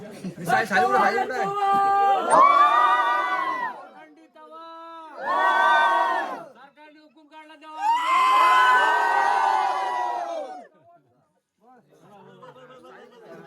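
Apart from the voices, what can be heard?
village crowd shouting ritual Holi bomb cries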